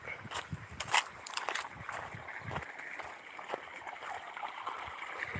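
Irrigation water runs through a sugarcane field in a steady, fairly quiet wash, with soft splashy gurgles and small bumps along its flow and no voices.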